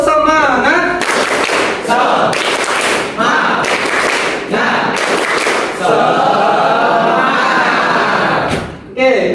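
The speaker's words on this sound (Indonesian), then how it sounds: "Mari kita melakukan tepuk semangat dulu, ya." A class of students does tepuk semangat, bursts of loud rhythmic group clapping alternating with chanting voices, close and energetic over about nine seconds.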